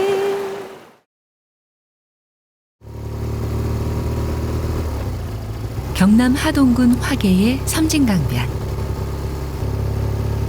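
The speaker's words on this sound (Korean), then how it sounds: "슬로우시티 하동과 어울리지 않는 오토바이 소리가 우렁찹니다." After a brief silence, a steady motorcycle engine drones in rural Hadong near Jirisan, South Korea, rising and falling in pitch as it revs. A voice speaks over the start.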